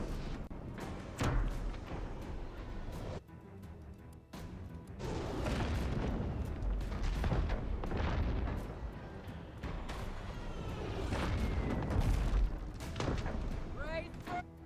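Booming cannon fire in the naval combat game Abandon Ship comes as repeated heavy blasts under a game soundscape, with a voice talking over it.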